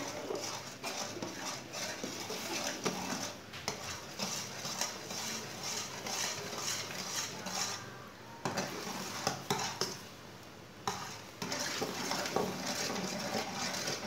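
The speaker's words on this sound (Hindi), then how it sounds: "दूध के साथ इसे अच्छी तरह मिक्स करना है" Makhana laddu mixture stirred with milk in a pan on the stove, a steady scraping and clinking of spoon against metal running nearly throughout, with brief dips in between.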